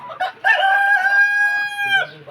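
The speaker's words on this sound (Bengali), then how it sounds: "এই যে আমাদের টাইগার মুরগিগুলো" A Tiger breed rooster crows close by in one loud, sustained cock-a-doodle-doo lasting about a second and a half, after a brief cluck.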